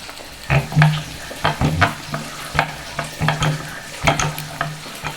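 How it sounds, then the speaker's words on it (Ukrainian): Chicken liver fries in a pan with a steady close sizzle, broken by repeated stirring and scraping clicks that come in short bursts throughout. "Печінку перевернула, так вона підсмажилася гарно."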